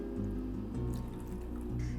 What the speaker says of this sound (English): And an additional 400 ml of boiling water.